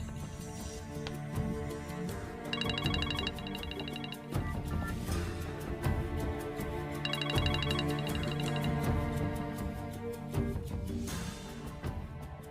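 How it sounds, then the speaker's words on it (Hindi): A telephone ringtone in a Hindi drama, a repeating electronic ring pattern sounding in two bursts over background music, with no talking. "विदात साहब का फोन है।"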